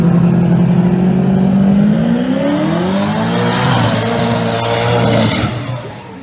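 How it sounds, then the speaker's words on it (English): A small-block, single-turbo Pro Mod drag car launches at an outlaw Pro Mod qualifying session with a loud, sustained, jet-like engine roar that climbs in pitch as it pulls away, then fades slightly at the end. "Thing sounds like a jet car when it leaves."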